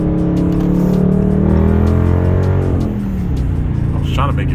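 A tuned 2021 Dodge Charger R/T in sports mode pulls hard in second gear, its engine note climbing steadily and loud from inside the cabin before easing off near the end.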